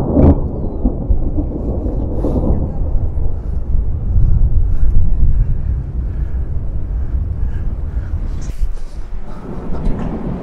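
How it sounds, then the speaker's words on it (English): Thunder rumbles long and deep outdoors near the old Herculaneum Dock, a loud rolling roar that swells and fades over about ten seconds, with a brief crackle near the end. "I got the thunder, I think I missed the lightning though."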